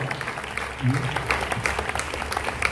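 Applause from a church congregation after a testimony about a miracle of Our Lady of Sorrows, a steady patter of clapping running throughout, with a voice rising briefly over it.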